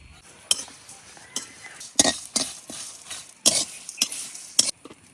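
Whole cumin, cinnamon, cardamom, cloves, five-spice seeds and dried red chillies frying in a pan, with repeated clinks and scrapes of a spoon stirring over a soft sizzle, close by and uneven in rhythm.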